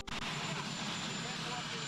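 Helicopter rotor and engine noise, loud and steady throughout, underlying a man's speech at an outdoor political appearance.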